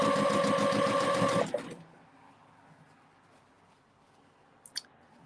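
A sewing machine stitching strips of Christmas fabric runs in a loud, fast mechanical whir for about a second and a half, then stops abruptly, leaving quiet room tone and a soft click.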